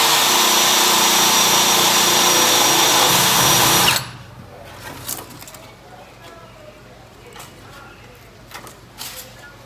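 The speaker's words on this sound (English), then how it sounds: "All I'm using is an arbor on the end of the drill and an abrasive pad to clean this up" A power drill fitted with an arbor and abrasive pad whines loudly and steadily for about four seconds while scrubbing a Foxbody Mustang engine bay, then cuts off, leaving faint handling clatter.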